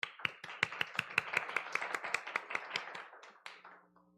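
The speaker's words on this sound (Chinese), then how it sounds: "我们应该要给上帝一个热烈的掌声哦。" A congregation at a youth worship service claps in a quick, steady run of sharp, distinct hand claps, close and fairly loud, thinning out near the end.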